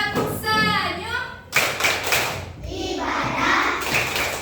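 Schoolchildren in a classroom perform a rhythmic hand-clapping routine, quick bursts of claps and slaps with a teacher's voice and children's chanting mixed in.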